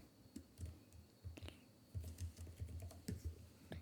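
Quick bursts of keystrokes on a computer keyboard typing a short phrase, soft clicky taps in uneven clusters with brief pauses, close and fairly quiet.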